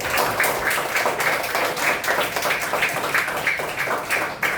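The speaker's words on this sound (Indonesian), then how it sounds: "Tepuk tangan Pak Radi." A classroom of students claps for a classmate named Pak Radi, a steady patter of many hands that continues at an even level throughout.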